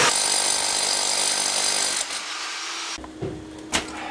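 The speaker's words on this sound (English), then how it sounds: "You might wonder why I'm drilling weep holes up here as opposed to down there." A power drill bores weep holes into a rubble stone basement foundation, loud and grinding for about two seconds, then stops; a few faint knocks and a sharp click follow in the quieter room.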